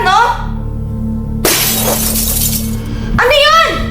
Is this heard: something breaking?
yes